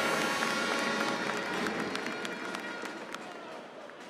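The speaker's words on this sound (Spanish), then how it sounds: "Un aplauso a ellos que contribuyen a la democracia de nuestro país." A crowd at a political rally applauds the parties present, producing broad, sustained clapping with a few sharper claps on top, fairly loud at first and slowly easing off.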